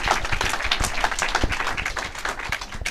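A conference audience at a startup event applauds Eric, with dense, steady clapping filling the whole stretch at a fairly even level and no clear voices over it.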